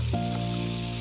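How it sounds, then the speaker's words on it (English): Continuous sizzling buzz of a venomous rattlesnake shaking its tail, steady and fairly loud for about a second, with a faint hum beneath it. "Listen to the sound of the tail of that venomous creature here."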